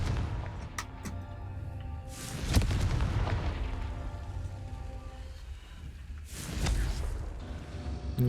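A Confringo fire spell bursts in Hogwarts Legacy, with two loud booming explosions about four seconds apart, each sweeping across a broad rumbling wash, set over a steady game ambience without talk.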